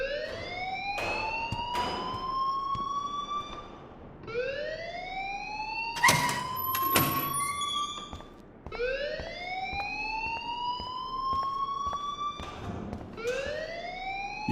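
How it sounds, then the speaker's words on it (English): Alarm wailing inside a school in the video game Life Is Strange, a loud repeating rising siren-like tone in steady cycles, with sharp clanks and bangs breaking in mid-way and no talking. "please turn off that alarm since that's your job"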